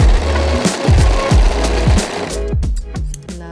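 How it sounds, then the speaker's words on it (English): An overlocker stitches a seam on a fabric top and bra, a loud close run of rapid mechanical thumping that stutters and changes pace toward the end, with no talk. "my overlocker's just misbehaving there"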